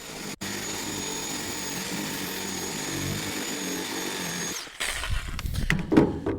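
Power saw cutting during DIY fence building: a steady loud mechanical whine runs alone for about four and a half seconds, then breaks into rougher bursts and clatter as the cut finishes.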